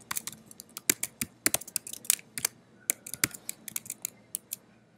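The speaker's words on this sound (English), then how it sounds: "type the photographer's name" Typing on a computer keyboard, with irregular quick key clicks in short flurries and pauses, close and fairly quiet.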